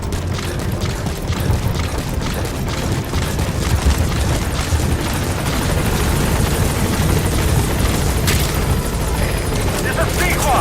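Pequod support helicopter arriving at a landing zone in Metal Gear Solid V: The Phantom Pain, a loud continuous rotor thrum and engine roar close by, with a radio voice speaking over it.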